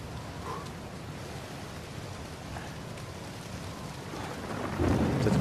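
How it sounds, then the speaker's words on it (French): Heavy rain pours down steadily with deep rolling thunder in Uncharted 4, a dense continuous wash of rainfall that swells louder toward the end, with no voices. "Tu te prends de la pluie comme ça dans la gueule"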